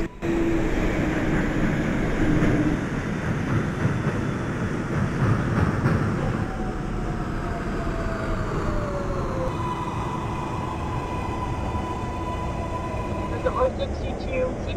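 An R142A 6 subway train runs in the Openbve simulator near Astor Place, with steady rolling rumble and a rising, then falling, motor whine as it speeds up and slows.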